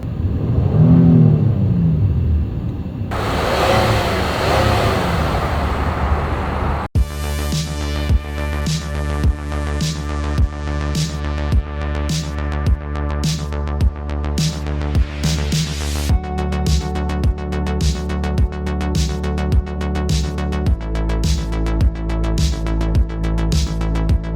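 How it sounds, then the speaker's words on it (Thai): Honda pickup truck engine running, first a rising rev and settling rumble, then a steady idle with a regular rhythmic pulse that carries on at a close, moderate loudness, no talking. "ลองฟังเสียงเครื่องดู เสียงนุ่มมาก"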